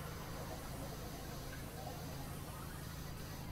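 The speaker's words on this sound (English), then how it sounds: "There's that spray." A power washer spraying on a steam locomotive in Power Wash Simulator: a steady, broad hissing rush of water held at constant loudness throughout, with a low rumble beneath.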